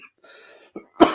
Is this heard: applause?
no